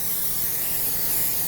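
Continuous close hissing of an olive oil aerosol cooking spray, steady and even for the whole moment, with no talking.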